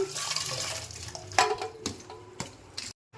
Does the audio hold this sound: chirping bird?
no